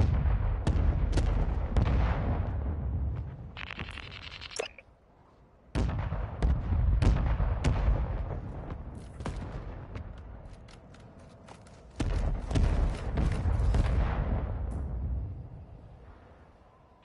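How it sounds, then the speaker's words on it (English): Mortar strike explosions in a video game: repeated heavy booming blasts with deep rumbling, arriving in waves with brief lulls between them, loud and close and continuing for many seconds, with no talking. "Our mortar strike is inbound."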